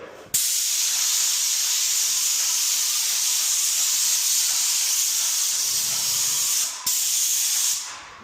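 A paint sprayer applies primer to new drywall, giving a loud, steady airless hiss that runs unbroken for about six seconds, breaks off for a moment, then resumes briefly before trailing away.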